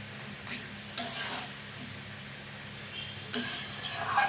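Lau greens with poppy seed are stirred in a pan, with a few bursts of scraping and clinking between quieter stretches of soft sizzling.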